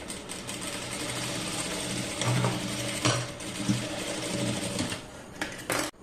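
A sewing machine runs steadily, stitching the shoulder seam of a garment, its rapid mechanical whirr and needle clatter continuous and close with small shifts in pace and a short burst near the end.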